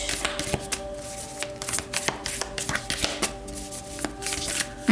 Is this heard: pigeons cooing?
no